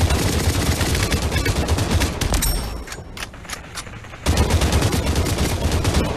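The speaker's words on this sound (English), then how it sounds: "that gun has a lot of recoil" Rapid gunfire from a heavy-recoil weapon in the VR game Population One rattles out in dense automatic bursts, pausing briefly in the middle before resuming just as loud.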